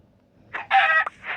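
A chicken in a video game gives a short burst of loud clucking and squawking calls, several clipped notes close together, with quiet before them.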